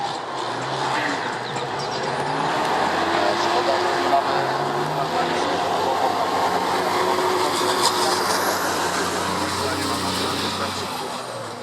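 Drift cars racing side by side in pairs at a motor show. Engines roar and tyres scream in a constant, loud, far-carrying wash of noise from start to finish, with a commentator talking over it.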